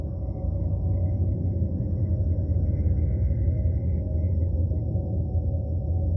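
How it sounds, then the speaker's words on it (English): Data sonification of the Milky Way galaxy from NASA: a steady, eerie low rumble with a droning hum and faint higher shimmering tones, continuous and unchanging throughout, with no voices. "this is the sound of our very own galaxy,"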